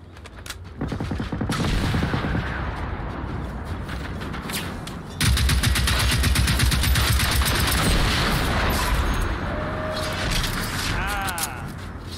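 Robots firing in Generation Zero, a dense sustained barrage of rapid automatic gunfire that swells louder partway through and keeps hammering without pause, with a few whines and mechanical tones mixed in.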